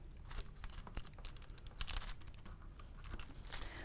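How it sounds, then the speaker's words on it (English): Artist tape torn off a roll and pressed down on a board for a watercolor painting: a quiet, close series of short crinkling rips and crackles with small taps, no voices. "I'm going to take a little bit of artist tape and tack it down so that it doesn't move while I'm working."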